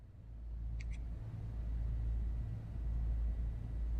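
A Blacksquare Piston Duke's piston engines running up toward 1500 RPM in Microsoft Flight Simulator, heard as a steady, faint, low rumbling drone with a couple of tiny clicks early on.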